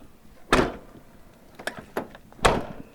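A Mazda RX-7 car door shuts with a few soft, dull thunks spaced a second or so apart, fairly quiet with no talking.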